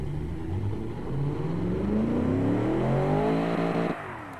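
A car engine built in the game Automation revs steadily upward toward its roughly 6,800 RPM limit, rising through the gears in a smooth climbing whine before dropping off abruptly, loud and close with no talking.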